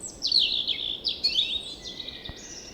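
Finches chirping outdoors in a rapid run of high, bright tweets and trills that carries on throughout, close and clear over a quiet background.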